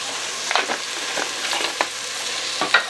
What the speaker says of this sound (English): Get that mixed up a bit.